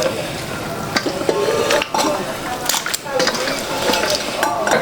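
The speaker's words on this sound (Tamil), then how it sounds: "மசாலாவில் சிக்கன் போட்டாச்சு" Three kilos of chicken stirred into biryani masala in a large pot, with continuous sizzling frying and repeated scraping, clanking stir strokes, loud and close, Chennai-style basmati biryani cooking.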